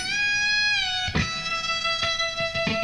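An electric guitar string is bent up again after a raised note, the sustained tone gliding in pitch alone at close range, with a few picked attacks interrupting the held note during a string-bending solo.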